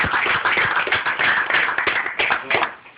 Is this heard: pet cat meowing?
no